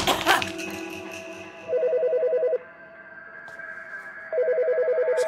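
Telephone ringing in the game As Dusk Falls, two bursts of a rapid electronic trill separated by a pause, clear and fairly close, with a brief crash at the start.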